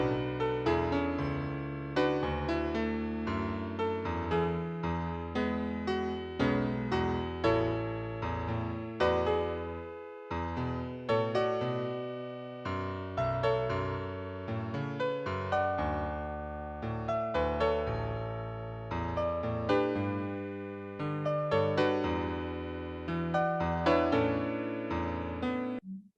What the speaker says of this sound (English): So this time the piano melody is a bit more rich.